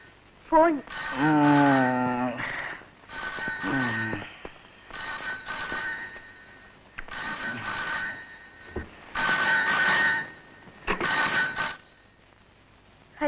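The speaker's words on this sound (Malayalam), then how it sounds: "ഫോൺ." A telephone rings indoors in repeated bursts, alternating with pauses and people's voices.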